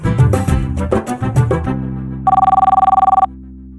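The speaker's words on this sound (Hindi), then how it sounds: "घंटी जा रही है" A phone rings with a rapid electronic trill after some musical tones, a single loud burst of warbling ring lasting about a second.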